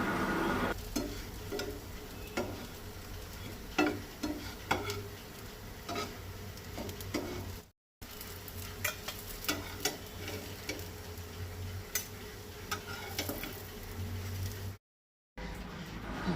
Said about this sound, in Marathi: अशें ते दोनूय सायडींनी भाजून घेवपाक जाय.